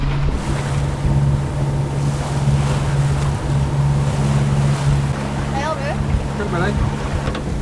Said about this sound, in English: waves are picking up as we get through the sounds